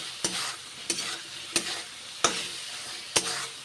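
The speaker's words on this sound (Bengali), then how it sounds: "লবণ এবং হলুদ দিলাম, নেড়ে চেড়ে কষে নিচ্ছি।" Pointed gourd frying with salt and turmeric gets stirred in a pan, five sharp scraping strokes at a steady rhythm over a soft continuous sizzle, no voices.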